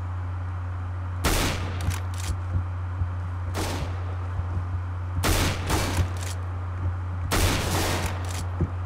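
Gunfire in Counter-Strike: Global Offensive at the Safehouse map comes in four loud, close bursts of rapid shots separated by pauses, over a steady low game hum.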